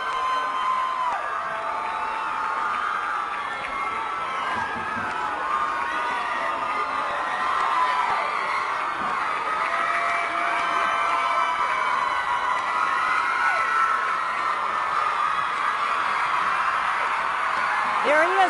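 A large crowd cheers and whoops at a homecoming parade for a singer, a loud, continuous roar of shouting and yelling that carries on without a break.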